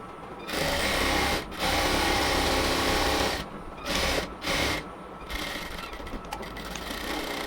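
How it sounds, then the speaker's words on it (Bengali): Close sewing machine double stitching salwar fabric, running in a long burst of whirring, then a longer run, then two short ones, with quieter handling sounds in the gaps. "এবার হচ্ছে আবার মিডল পয়েন্ট থেকে আর একটা পাশেও আমরা হচ্ছে ডাবল সেলাই দিয়ে নেব"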